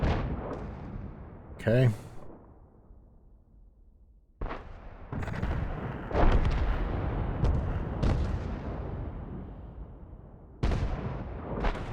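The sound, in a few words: tank gunfire in World of Tanks video game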